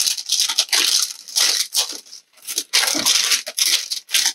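Sheet wrapping being folded and crimped around homemade guava paste, giving close, loud bursts of crinkling and tearing-like rustle in repeated short strokes with brief pauses between them.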